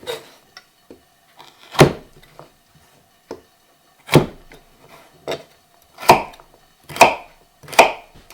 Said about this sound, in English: That's a lovely carrot that we brought up from the garden. And I'm going to just chop it coarsely.